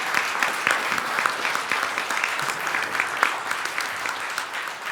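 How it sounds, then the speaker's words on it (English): A conference hall audience at a cancer survivorship event claps steadily and warmly, a dense, even wash of applause from many hands, sustained throughout without a break. "Can we hear it one more time for Nikki, please?"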